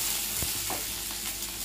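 Ginger chutney ingredients sautéing in a pan, a brief soft sizzle with a couple of stirring scrapes, steady and close.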